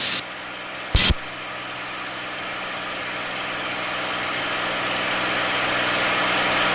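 A P-51 Mustang's piston aircraft engine runs in flight at 42 inches of manifold pressure and 2,500 RPM, giving a loud, steady, close broadband drone with a short louder burst near the start.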